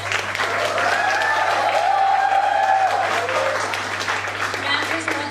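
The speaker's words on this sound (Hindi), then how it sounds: "मैम के लिए बहुत धीमी तालियां हैं।" An audience at a college dean-and-professors student event claps steadily, with a voice talking over the applause throughout.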